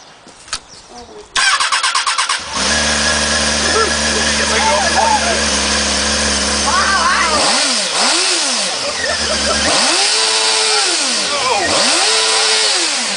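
A Triumph Daytona motorcycle engine cranks briefly, then catches and idles loudly before being revved in several rising and falling sweeps, close up, with a voice speaking faintly under the engine.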